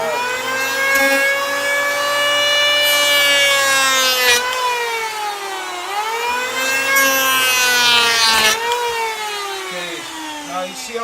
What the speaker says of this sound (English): if you can't afford one of the big heavy duty thickness planters you can just feed a whole board